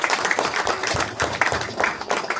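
Audience clapping at a Marathi comedy stage show, a steady wash of applause with louder bursts of hand claps running through the whole stretch.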